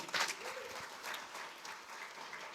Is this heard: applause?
yes